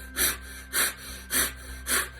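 Four forceful, evenly spaced exhales of breath-of-fire breathwork, each a sharp nasal whoosh about half a second apart, close and clear over a quiet background.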